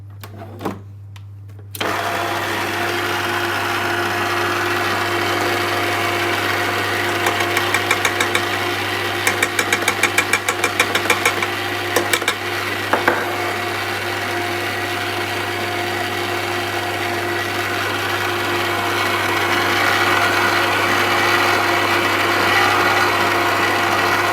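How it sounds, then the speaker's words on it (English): An electric stand mixer runs on low speed, blending tylose powder into gum paste with a steady motor hum and light rattling knocks, close and continuous after a brief start. "now we are gonna put our speed on very low and add our tylose powder and let it mix a little bit"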